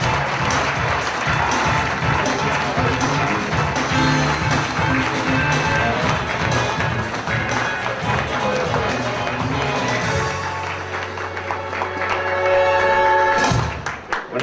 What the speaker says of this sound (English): Ladies and gentlemen, a big round of applause for the champ